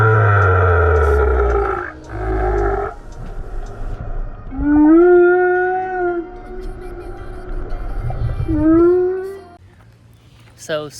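Whale calls underwater off Mo'orea: long, low moaning tones that rise and bend, repeated several times, loud and resonant against a murky background.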